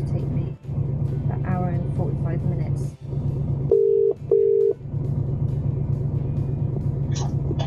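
Telephone dial tone sounding in two short, even beeps inside a truck cab before a call, heard over a steady low engine rumble with some clatter around it.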